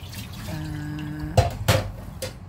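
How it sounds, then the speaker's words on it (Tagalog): Water from boiling a pork leg for beef pata humba pours out in short splashing bursts, with a steady hum underneath and a few louder sloshes toward the end. "Tapos tatapon natin yung tubig,"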